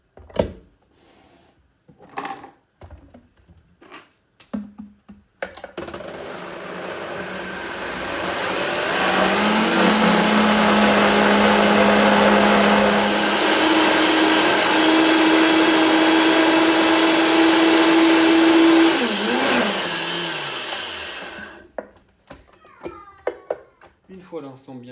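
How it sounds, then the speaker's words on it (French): A blender whirs steadily for about fifteen seconds, loud and close, as it mixes steamed bun dough with miso, its pitch shifting as the mixture thickens; quiet kitchen clatter comes before and after. "On va déjà mixer tout ça."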